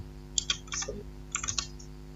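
Keystrokes on a computer keyboard as a Linux install command is typed in a Debian terminal for a network administration exercise: two short bursts of several crisp clicks, close and fairly quiet, with no talking.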